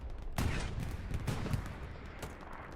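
Bursts of rifle and machine-gun fire crackle through a Hell Let Loose multiplayer battle on a farm map, several sharp reports at irregular intervals over a steady loud din of combat, with no voices.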